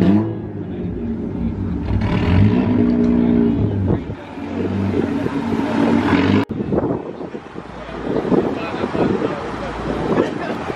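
A car with an L28 inline-six engine approaches at a car meet, its engine note swelling and revving over steady rumble and wind noise.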